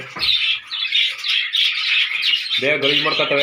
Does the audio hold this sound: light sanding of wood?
no